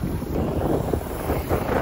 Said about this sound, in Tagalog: Tapos lumalakas yung hangin.